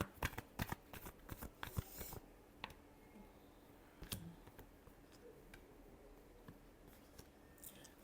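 Tarot cards shuffled by hand in a series of quick, crisp riffling flicks and taps, busiest at the start and thinning to sparse clicks, close and fairly quiet with no talking.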